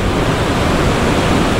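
A waterfall roars as a loud, steady broadband rush, unbroken and close, with no other sounds standing out above the continuous wash of falling water.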